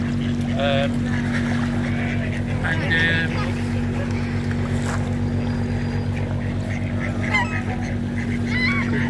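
Honking and squawking waterbirds being fed on the edge of Lake Windermere call in short bursts over a steady low engine hum, with people talking faintly in the background.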